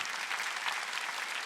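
A Sunday service congregation in a church bursts into full, continuous applause, many hands clapping at once in a thick, even roar.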